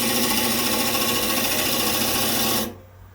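A skew chisel takes a planing cut on maple spinning on a wood lathe, producing a loud, steady whirring hiss that cuts off sharply near the end, leaving a quieter hum.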